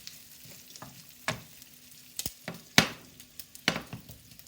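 Smoked pancetta frying in a pan for carbonara, a close steady sizzle broken by sharp pops and crackles at irregular moments, without talk.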